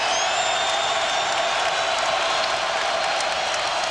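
A basketball arena crowd at an FSU–Iowa State NIT game in 2004 roaring and applauding in a dense, sustained wash of noise, loud and unbroken throughout.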